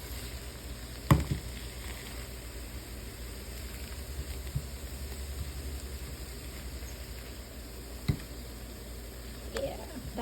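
Frozen pork and veggies sizzle quietly in a stir fry pan as a steady, faint hiss, with occasional clinks and stirring knocks and soft talking over the top.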